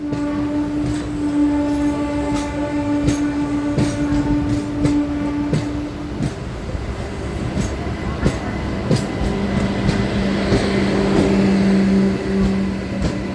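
Steady rumble and rattle of a passenger train in India running near Gaya, with wheel clicks, carriage creaks and a sustained low tone, continuous and fairly loud throughout.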